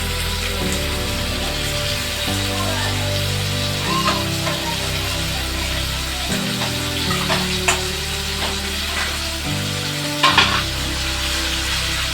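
Half a kilo of fresh boneless chicken fries in a pan for curry, giving a steady loud sizzle with occasional stirring scrapes and clatters throughout; no talking.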